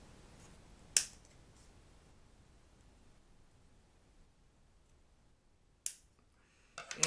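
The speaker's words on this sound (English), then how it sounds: "I'm going to cut the excess off the lead as close as I can." Excess wire lead on an Optimus RDA vape atomizer is clipped off, two sharp, crisp snips spaced several seconds apart over a quiet background, with light handling clicks at the end.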